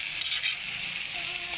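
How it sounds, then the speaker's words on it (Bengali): Tomato paste and garam masala fry in a pan with a steady soft hiss, brief and close, with no talking. "মশলাটা ভালো করে কষিয়ে নেব"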